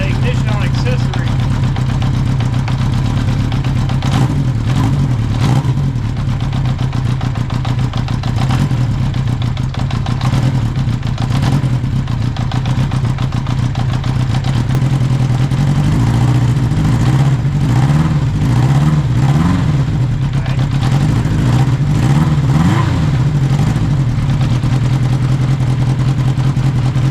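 A 1980 Honda CB 900 engine fitted to a custom motorcycle lawnmower trike runs loud and close, a steady rough idle with several revs and some clatter.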